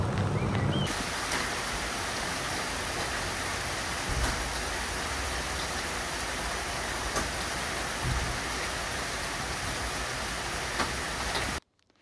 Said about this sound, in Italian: tra ieri e stanotte ha fatto veramente tanta acqua, eh, uno di quei temporali